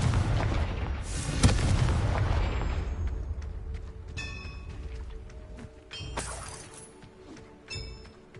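Confringo blasting-spell explosions in the video game Hogwarts Legacy: a loud, booming burst with crackling debris, followed by two later, fainter blasts, all under a steady game-ambience rumble.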